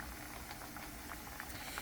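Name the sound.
plantains frying in oil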